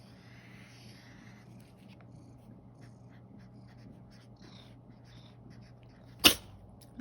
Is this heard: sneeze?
yes